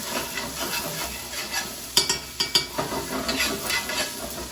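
Onion frying in a pan on low heat, a gentle sizzle broken by several sharp spoon-against-pan stirring clatters midway, close and without talking.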